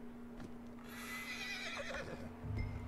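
A horse in Red Dead Redemption 2 gives a loud, close whinny that rises and wavers for about a second, with a few hoof clops and low ambience around it.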